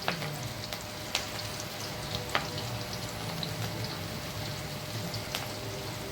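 Small dollops of onion pakoda batter frying in hot oil in a kadai, giving a steady, close, crackling sizzle with a few sharper pops scattered throughout, and no voices.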